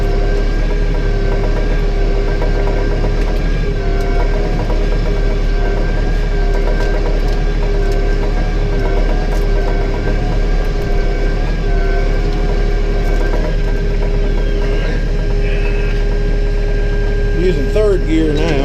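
A tractor engine drones steadily at close range while plowing food plots, a loud continuous low rumble with a constant pitch and no breaks, and a voice speaks briefly near the end.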